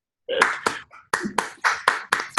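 A small group of online meeting attendees applauding a Rotary club member: a few sharp, close hand claps in an uneven, sparse rhythm after a brief silence, with no voices.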